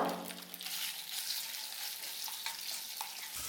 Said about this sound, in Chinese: 锅内倒油，放入腌制好的鸡片煎制